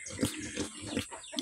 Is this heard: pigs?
yes